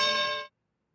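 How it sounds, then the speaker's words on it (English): A single bright bell ding on a live political show, a clear ringing tone that holds for about half a second and then cuts off abruptly into silence. "but can't forget the bell."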